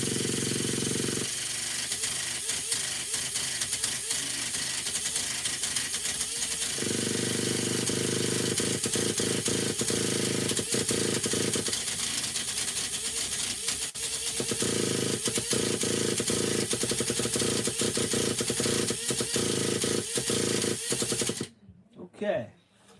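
A Traxxas Revo RC nitro engine screams at wide-open throttle, a loud, dense, rattling buzz with pitch surging and dropping through repeated throttle blips before cutting off near the end.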